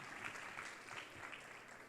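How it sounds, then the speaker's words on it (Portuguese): Steady applause from a large church congregation fills the room, continuous clapping heard from a distance. "aplaudindo ao Senhor."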